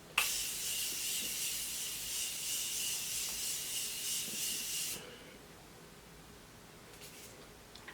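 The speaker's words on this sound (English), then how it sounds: "I'm going to take my Morphe setting spray and I'm going to spray this down" A Morphe setting spray hisses onto a face in one steady, close burst lasting about five seconds, then cuts off into quiet room tone with a faint click or two.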